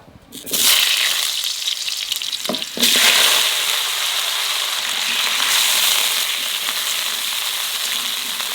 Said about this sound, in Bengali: এইবার আলুটা ভেজে নেব।